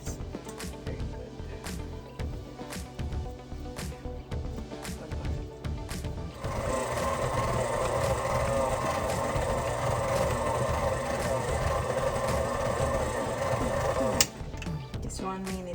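An electric mixer mixing vegan cookie dough gives a steady mechanical whir that grows louder and denser partway through, holds for several seconds, then cuts back down near the end.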